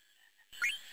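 Frog croak from the Final Fantasy IX video game, a short, bright game sound effect that starts abruptly halfway through, following a faint high electronic tone.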